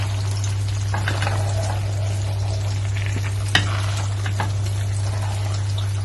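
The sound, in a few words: stirring egusi spinach stew with fried salmon in a pot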